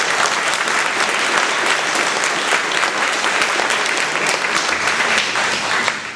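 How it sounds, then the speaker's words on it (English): Audience applause after a research presentation, a dense, steady clapping from a crowd in a hall that holds at an even level for about six seconds before tapering slightly at the end. "you deserve a round of applause for that"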